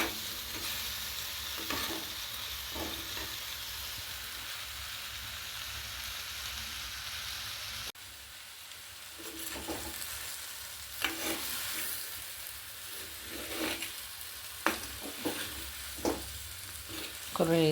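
Mango pickle frying in coconut oil while a spoon stirs and scrapes the pan, a steady close sizzle with irregular stirring knocks that grow busier toward the end.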